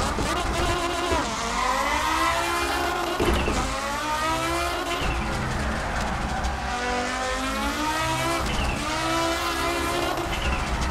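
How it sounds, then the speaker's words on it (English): An Audi Quattro S1 E2 rally race car with its turbo set to full runs the Nürburgring Nordschleife in Assetto Corsa, its engine revving and rising through the gears continuously, loud and close. "let's take this Audi Quattro beast to the Nürburgring Nordschleife."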